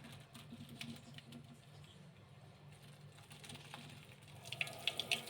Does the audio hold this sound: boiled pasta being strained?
yes